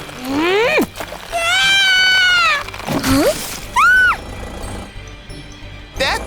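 A cartoon cat meows several times in a children's animated rescue story, loud rising and falling cries up close, followed by a splash-like burst, with no one talking.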